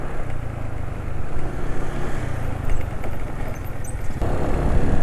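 A two-stroke motorcycle engine idles on a Mesran two-stroke oil mix, giving a steady close-up rumbling drone with a brief rise near the end and no talking.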